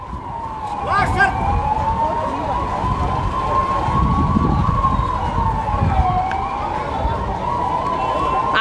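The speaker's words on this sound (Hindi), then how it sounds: "एम्बुलेंस जो है वो मौके पर पहुंची, फायर ब्रिगेड की टीम मौके पर पहुंची, पुलिस की टीम मौके पर पहुंची" Emergency sirens from an ambulance, fire brigade and police vehicles arriving at Karan Gate Market in Karnal, a steady wailing tone sweeping slowly up and down throughout, loud and close, with street noise and faint voices beneath.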